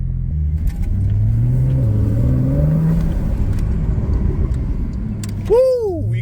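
Porsche 911 turbo engine revving, a deep rumbling drone that climbs and swells, fairly near and steady for several seconds before a brief rising whine near the end.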